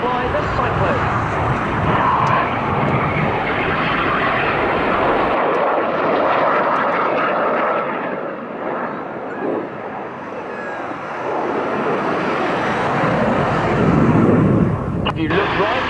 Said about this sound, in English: The synchro pair with the smoke are now turning away from them at 6G or 6 times the force of gravity.